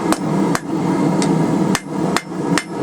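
Hammer blows forging the taper of a chisel, about six sharp metallic strikes at uneven intervals. They ring out close and clear over a low background hum.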